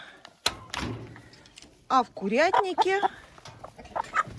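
Hens in a backyard chicken coop give a few short, bright clucks and squawks in bursts, near and fairly loud, with a door-like knock early on and some speech mixed in.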